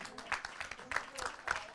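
An audience at a televised show applauds with scattered, uneven clapping while a voice talks over it in French.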